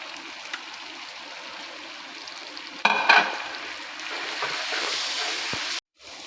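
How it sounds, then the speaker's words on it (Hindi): Goat intestine (ojri) frying with ajwain, cinnamon and cumin in a pan gives a steady sizzle, a sharp burst of stirring partway through, then louder sizzling before it cuts off abruptly. "ओजरी को भूनते हुए मुझे 10 से 12 मिनट हो गए हैं।"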